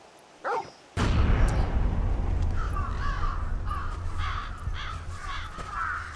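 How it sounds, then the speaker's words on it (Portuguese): Crows caw repeatedly over a deep rumbling game ambience in Final Fantasy XVI, the harsh calls coming in a loose series after a sudden heavy boom, moderately loud and without talk. "Apesar de que isto já tem corvos em cima"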